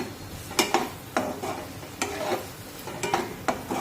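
Chole masala, cooked until the oil separates, is stirred in a pan, with a steady soft sizzle broken by repeated scraping clinks of a spoon against metal.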